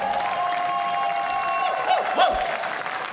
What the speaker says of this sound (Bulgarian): Искам силни аплодисменти за Монката,